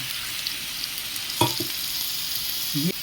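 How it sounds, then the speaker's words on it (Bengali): Nigella seeds and spices fry in hot oil, separated from the paste, while cooking a poppy-seed catla fish curry. A steady close sizzle runs throughout, with a couple of brief stirring scrapes. "কালো জিরে আছে ওর সঙ্গে মশলাটা আমার সুন্দরভাবে ভাজা হয়ে গেছে তেল ছেড়ে এসেছে"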